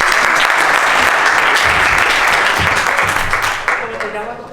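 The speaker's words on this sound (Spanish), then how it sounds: "un aplauso, por favor" An audience gives a sustained round of applause, loud, dense clapping that carries on steadily and tapers slightly near the end, with some speech mixed in.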